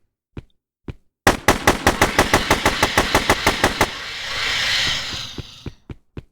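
A rapid string of loud gunshots from the video game Datura rings out as a burst of about a dozen evenly spaced shots, followed by a hiss and scattered single shots, with no talk.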